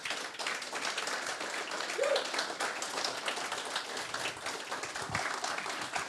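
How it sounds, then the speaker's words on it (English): Crowd applause from a farewell gathering's audience, a steady dense wash of many hands clapping that holds at an even level throughout with no talk over it. "let's give these a good round of applause as well"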